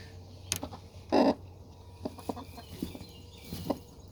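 Hen on a backyard coop, guarding her eggs, lets out a few short, close clucks and one louder squawk-like burst, with soft scattered clucking between.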